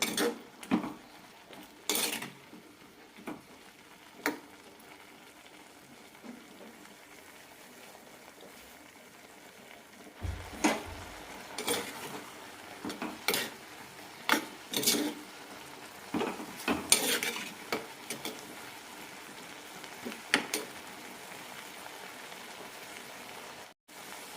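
A spoon scrapes and clinks against a pot while a vegetable mixture with salt and a small piece of jaggery is stirred, irregular knocks over a soft bubbling simmer, close and without talking.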